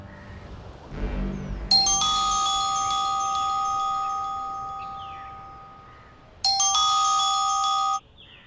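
A phone rings with a bright electronic chime tone that holds for a few seconds, stops, then sounds again for a shorter stretch, loud and close in a quiet room.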